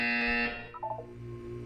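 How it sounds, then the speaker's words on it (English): Buzzer in the Portal 2 video game, a harsh electronic tone that sounds briefly and cuts off, followed by softer electronic tones and a low background hum. "You will hear a buzzer."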